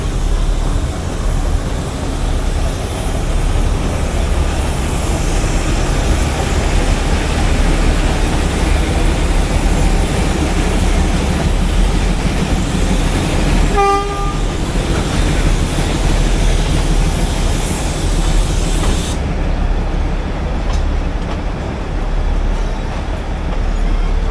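A Neral–Matheran narrow gauge hill railway train rumbles loudly and continuously from on board, with steady rolling noise and a brief horn-like tone midway, the sound easing toward the end.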